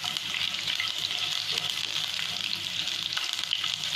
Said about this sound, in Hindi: आठ दस लहसुन की कलियाँ और अदरक का टुकड़ा इस तरह से मैंने डाल दिया है।